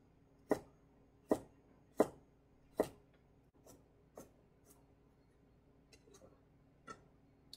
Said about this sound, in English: I'll just turn it sideways and then cut this